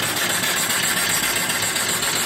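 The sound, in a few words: model mill steam engine running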